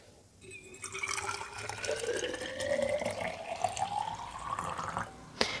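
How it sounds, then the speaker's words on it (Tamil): Hot water pours into a smart flask with an LED temperature display, a steady trickling stream whose pitch rises as the vessel fills, close and moderately loud, ending with a sharp clink. "நான் ஹாட் வாட்டர் வச்சிருக்கேன், இப்போ ஊத்துறேன்."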